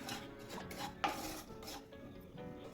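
Semolina, sooji and wheat rava, dry-roasting in a pan over a low flame for masala upma, heard as steady scraping and clinking of a utensil stirring against the pan, with one sharper knock near the middle.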